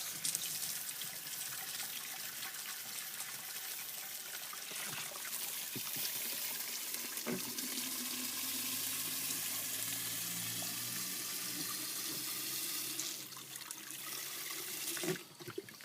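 Water runs steadily from a tap into a watering can at a garden, a soft continuous trickle and splash that deepens slightly as the can fills, ending with a brief louder gush.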